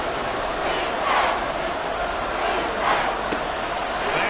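A stadium crowd in the Madden 24 football video game roars in a steady wash that swells twice, heard faintly alongside a broadcast-style commentary mix.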